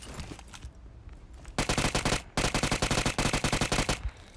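Automatic gunfire in the mobile video game PUBG Mobile, a loud close burst of rapid shots, a short pause, then a second long rapid volley, over quieter game ambience.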